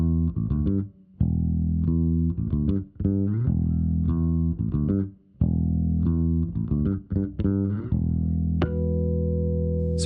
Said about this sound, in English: just a nice, clean and clear bass tone dialed in for this example